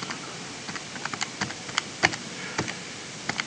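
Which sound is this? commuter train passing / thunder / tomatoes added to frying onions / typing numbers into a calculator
typing numbers into a calculator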